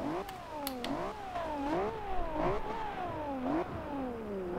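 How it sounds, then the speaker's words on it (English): A 2012 Ferrari F12berlinetta engine in the video game Forza Horizon 2 revs up and down repeatedly, rising and falling pitch sweeps in a steady rhythm, loud and continuous with no talking. "I want to hear this engine."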